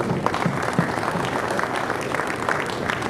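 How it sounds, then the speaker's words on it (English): Audience at a billiards expo applauds to welcome a pool player, a dense, even wash of clapping heard alone for a few seconds. "Big round of applause, man. Let him hear it."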